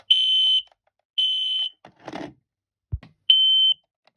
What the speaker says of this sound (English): EI207 carbon monoxide alarm.